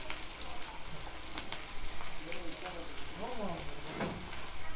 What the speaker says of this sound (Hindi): प्याज डालने के बाद इसको भी भून लेना है